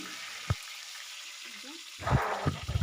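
Crushed garlic, cumin, mustard seeds and chopped curry leaves frying in hot oil, a soft steady sizzle that bursts louder after a brief quiet stretch, with a couple of sharp clinks of a utensil.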